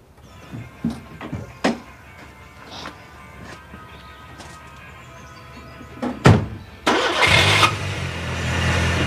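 A car engine starts up after a few thuds and clunks, cranking briefly and then settling into a loud, steady running idle nearby.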